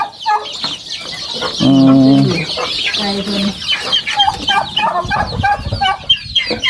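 Chickens and roosters on a mixed poultry farm also keeping geese and turkeys, with loud close clucking and a strong crow in the middle, plus busy overlapping calls throughout and faint voices in the background.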